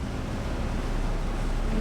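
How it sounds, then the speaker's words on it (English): A barge's engines strain as the vessel tries to pull off a riverbank, heard as a constant, low, broadband rumble mixed with a wind-like wash at moderate volume, without speech. "Ben's working his engines hard"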